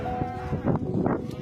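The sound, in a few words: goat caught in electric cables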